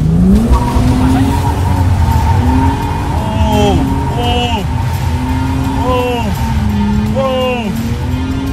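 BMW E36 drifting at Edutown, with repeated loud tire squeals rising and falling over a constant engine roar and someone talking throughout.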